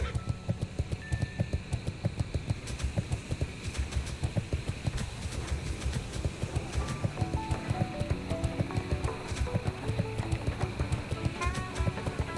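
Horse hooves in World of Warcraft Classic clop in a steady, fast, even rhythm, loud and close, over continuous game ambience with occasional chiming tones.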